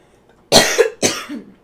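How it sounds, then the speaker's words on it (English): Two harsh coughs in quick succession, close and loud, each trailing into a short rasp. "I'm sorry about the coughing"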